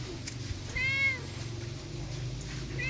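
An injured cat with a broken leg and protruding bone lets out one clear, fairly loud, drawn-out meow, followed by a brief start of another, over a quiet outdoor background hum.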